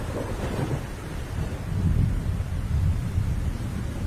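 Heavy rain pours in an animated story while deep thunder rumbles and swells twice, a dense continuous wash with no voices.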